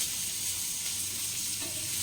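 Fish roasting on a hot tawa for a Sunday fish fry gives a steady, close, loud sizzle that crackles evenly throughout with no voices.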